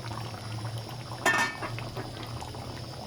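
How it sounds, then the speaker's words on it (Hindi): Chicken, peas and potato curry simmers in a pot with a steady low bubbling, broken once by a brief sharper clink or splash. "हो गए हमारे सालन को पकते हुए"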